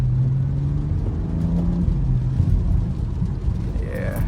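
A BMW F30 335i pulls forward under acceleration, its engine note rising in stepped rumbling tones, with a speaking voice over the engine noise.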